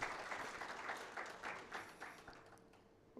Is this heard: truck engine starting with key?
no